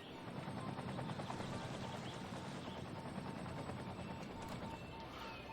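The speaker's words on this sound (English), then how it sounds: "Oh, they're actually sending helicopters in anyways." Helicopters arrive in the Cities: Skylines city-building game with a faint, steady rotor chop layered over a dense background rumble, continuous with no talk.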